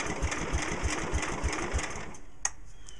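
The engine of a 1968 Sears 10 XL tractor mower turns over on its starter with a steady, evenly spaced chugging of about six strokes, then stops, leaving a faint hum and a brief click.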